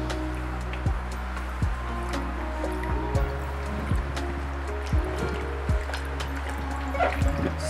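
A tote bag is soaked in water for tie-dye and squished, giving soft irregular squelches and drips close by over a steady low background hum, with no talking.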